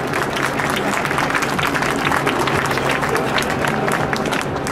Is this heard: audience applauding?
yes